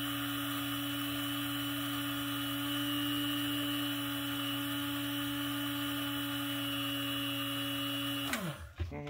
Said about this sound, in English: if you're trying to really silence your coffee grinding in the morning